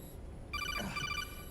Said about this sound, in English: I have got to change my ringtone.